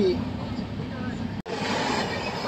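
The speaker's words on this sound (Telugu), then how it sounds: "పక్కన వెళ్తుంది కదండి ట్రైన్. ఏం ట్రైన్ ఉన్నారు అది? 13351 ధన్బాద్ LP బొకారో ఎక్స్ప్రెస్" Beside a train at Pendurti station, the 13351 Dhanbad–Alappuzha Bokaro Express passes alongside with a steady, broadband rolling rush and a brief dropout partway through.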